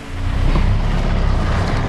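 A car drives through heavy rain, with a dense, steady wash of rain and road noise mixed with a low engine rumble, loud and close throughout.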